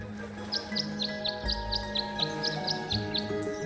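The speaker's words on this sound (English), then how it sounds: "The birds seem to like it. They're even singing a little tune." Birds chirp a rhythmic little tune beside a bird bath in the game Tangle Tower, about a dozen evenly spaced high tweets over a soft ambient hum.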